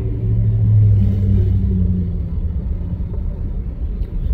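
A big old Chevy rolls by with a loud, low engine rumble that peaks early and then fades slowly as it moves away.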